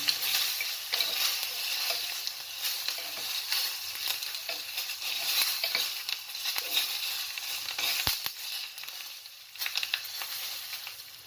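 Urad dal tempering is stirred and fried in a pan, a crackling, fluctuating sizzle with repeated scraping stirs and one sharp tap partway through.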